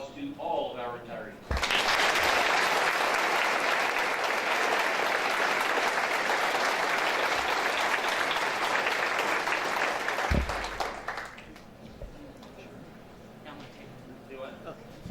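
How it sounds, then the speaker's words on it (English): A room of banquet guests at a school district retirement celebration breaks into loud applause for the retirees, full clapping for about nine seconds before fading out, with voices heard before and after. "please give a last round of applause to all of our retirees"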